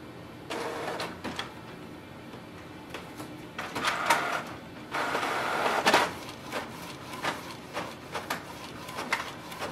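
A Canon Pixma G7020 inkjet printer prints with a series of mechanical whirs, clicks and sliding feed noises in uneven bursts, heard close up and alone.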